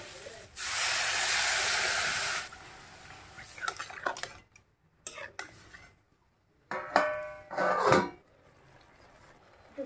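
Water poured into a hot pan of fried cauliflower stalks and potato, a loud burst of hissing steam for about two seconds, then scattered clinks and scrapes of utensils with pauses between.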